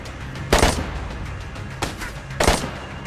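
Three sharp gunshots ring out in a DayZ gunfight, spaced irregularly about a second apart over a low ambient background.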